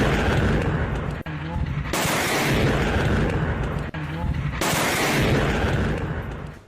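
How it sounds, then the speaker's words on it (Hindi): Massive roaring blasts of missiles striking the ground rumble one after another, each a long, loud wall of noise that swells and cuts off sharply. "जमीन से मिसाइल टकराई, वहां जोरदार धमाका हो गया, धरती कांप गई"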